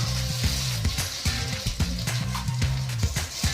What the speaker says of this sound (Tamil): நறுக்கி வச்சுருக்க தக்காளி துண்டுகளை அதோட சேர்த்துருங்க